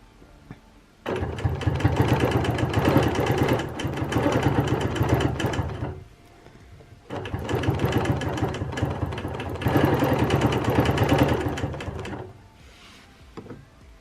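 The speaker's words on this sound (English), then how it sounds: "So when I quilt all the way here, I won't touch the previous wave, but I will be a 1/4 inch away from it." A sewing machine quilting waves with a ruler foot runs in two long steady bursts of rapid mechanical stitching hum, close and loud, separated by a brief pause, with no talk.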